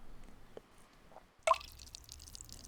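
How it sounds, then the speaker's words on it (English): Rum splashes onto fabric in a pirate audio drama scene, heard as a faint soft drip followed by a single brief, wet splash, quiet and close. "I splashed more rum onto the fabric"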